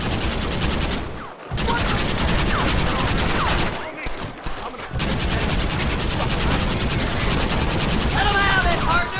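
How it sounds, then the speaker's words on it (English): A sustained fusillade rattles through a Red Dead Redemption shootout, many rifles and pistols firing continuously at mid distance, with brief lulls and shouting voices over the gunfire. "Why are they all shooting at me?"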